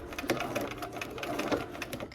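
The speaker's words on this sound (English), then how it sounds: "we have those 2 seams that we are going to sew" A sewing machine stitches quilt seams in quick, steady, loud mechanical pulses that run through the whole stretch without talking.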